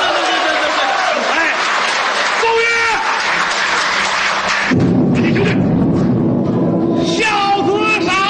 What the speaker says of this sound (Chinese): 大伙儿掌声鼓励一下。